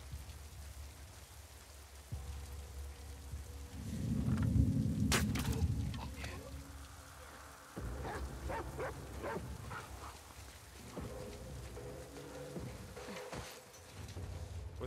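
A dog barks in a rain-soaked game scene in The Last of Us Part II, several sharp barks over steady rainfall, with a burst of heavier noise partway through.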